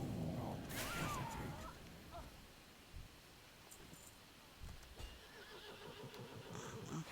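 A horse whinnies loudly near the start in World of Warcraft's Death Knight starting area, followed by quieter hoof clops and faint ambient game sounds, with no talk.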